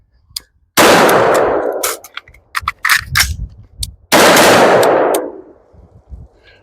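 Rifle fire at a shooting range: two loud, close bursts of rapid shots separated by a few scattered single reports and metallic handling sounds, each burst ringing out briefly afterward.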